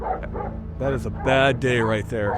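A tracking dog barks in the winter mountains, letting out several loud, close barks and yips in a row while someone talks over them.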